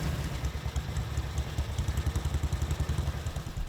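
An old British BSA motorcycle engine from the 1940s–1960s, powering a motorized becak rickshaw, idles with a steady, clattering, rhythmic thump, loud and near with no voices.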